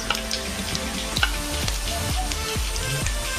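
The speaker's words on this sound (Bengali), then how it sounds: "এবার আমি পেঁয়াজ বাটাটা আমি 2 মিনিট কষালাম।" Onion paste fries in a pan with a steady close sizzle, broken by a few soft scraping stir strokes and no speech.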